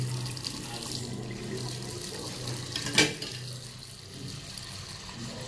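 Water steadily running from a household faucet, the tap turned over to the water heater side, making a continuous moderate hiss with one brief louder splash partway through.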